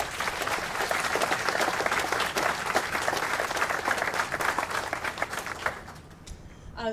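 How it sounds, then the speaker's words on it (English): A crowd applauds steadily at a groundbreaking ceremony, dense clapping filling the room and fading slightly toward the end. "So please give her a round of applause."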